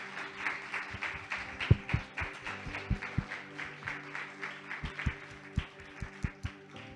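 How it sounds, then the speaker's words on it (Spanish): Scattered hand claps from a church congregation during a Sunday service, a thin, uneven patter of individual claps over a faint background hum, moderately distant and never building into a dense ovation. "Puedes dar un aplauso a Dios porque nos ayuda."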